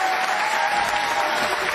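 A bowling crowd at a PBA playoff match applauds steadily, with dense, sustained clapping and cheering that fills the room without a break.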